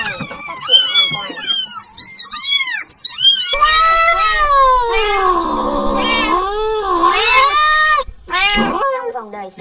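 Several kittens meow loudly and close by, with overlapping rising and falling cries and drawn-out caterwauling wails that continue almost without pause.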